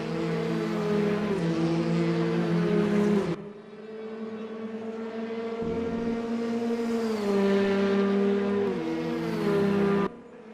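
Video game touring cars in a Super Touring Championship race at Bathurst cross the finish line. Buzzy engine notes drone at high revs, shift pitch, and cut off abruptly as each car passes, with no talk.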